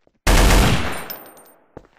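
A machine gun fires in a video game, a single loud, dense burst that begins sharply and then decays, followed by a faint short shot near the end.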